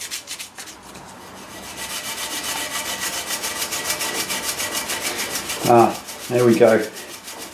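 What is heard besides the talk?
scrubbing steel with abrasive scotch pad and Harpic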